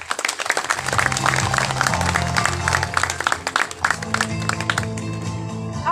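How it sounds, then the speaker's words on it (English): Applause from an audience at a school Parent's Day celebration, scattered hand claps mixing with music and a tonal background, moderately loud and uneven in texture. "Please give them a round of applause."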